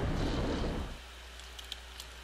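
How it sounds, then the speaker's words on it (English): Rain falling in the horror video game Corpse Party, a dense rushing patter that fills the first second and then drops to a faint low hum with a few small taps, no voices. "It was a rainy after-school day. It's just like this."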